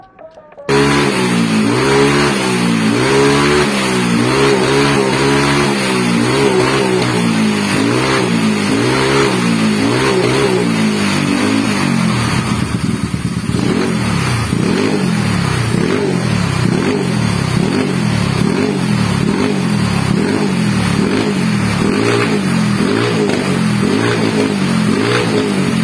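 A tuned 155 cc Yamaha Mio scooter engine with a BRT T2 camshaft revs continuously and loudly during carburetor jet testing, its pitch rising and falling in repeated throttle bursts with no voices.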